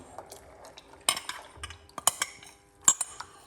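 Cornmeal being mixed with a spoon in a pot for Jamaican cornmeal porridge, a run of close metallic clinks and scrapes in an uneven rhythm, several sharper knocks, no talking.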